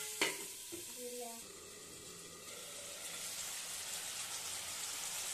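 Tomatoes for a cauliflower and tomato fish curry cook in a covered pan with a soft, steady sizzle after a few quiet clinks of the pan at the start.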